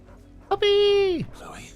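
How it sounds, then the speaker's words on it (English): A dog in the Final Fantasy XVI video game gives a short yip followed by a long, drawn-out whine that slides downward, loud and close, with faint game ambience around it. "Puppy!"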